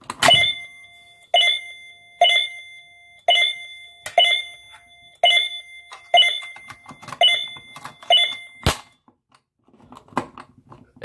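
A Simplex 49CMTV-WWF fire alarm strikes a chime tone again and again, about one metallic ring every second with ringing decay, then stops amid a sharp bang and scattered handling clicks.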